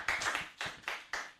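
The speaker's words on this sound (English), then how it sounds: "A round of applause for our man." A small workshop audience gives brief, sparse applause: about six separate hand claps spread over a second and a half, fairly quiet and slightly uneven.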